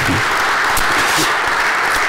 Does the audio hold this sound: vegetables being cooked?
no